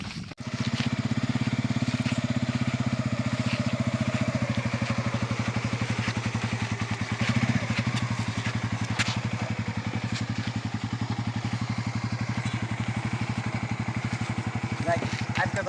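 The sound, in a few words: motorcycle engine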